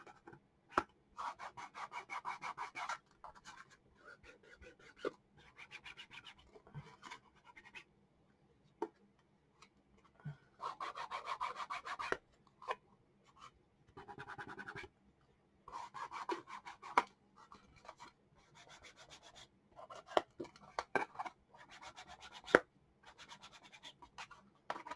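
A hand scrubs and buffs the decoupaged surface of a collage mixed media box in repeated close, dry rubbing strokes that come in bursts separated by short pauses, with no voices.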